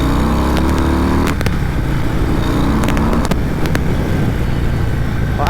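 A Harley-Davidson Breakout motorcycle roars with a loud, deep engine rumble that climbs in pitch, drops off, then surges again, heavy wind buffeting underneath and no talking.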